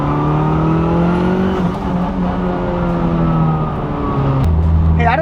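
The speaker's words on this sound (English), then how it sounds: "Can you guys hear how loud the trans whine is from the straight cut gears?" An 800 HP Mitsubishi EVO 9 with a straight-cut dog box gearbox gives a loud, rising mechanical whine over engine drone, the pitch climbing through each gear and dropping sharply at a shift near the end.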